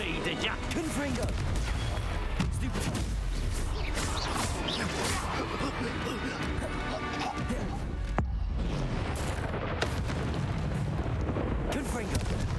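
Spell blasts in Hogwarts Legacy combat boom and crash continuously over a dense roar of game effects, loud and close, with a voice speaking over the action.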